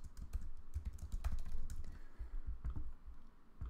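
A computer keyboard clatters with quick, uneven keystrokes close by as a command is typed, with a few louder key presses standing out.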